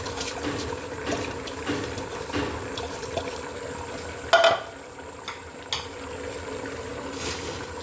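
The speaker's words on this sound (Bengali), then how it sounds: "এই পর্যায়ে ধুয়ে রাখা পোলাও চালটা আমি অ্যাড করে দিচ্ছি।" Washed polao rice tipped into a pot of beef keema for biryani, soft rustling and scattered clinks of a utensil against the pot, with one sharper knock midway, fairly quiet and close.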